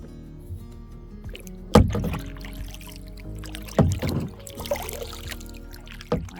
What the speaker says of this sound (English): Hope you enjoyed this paddle here this morning.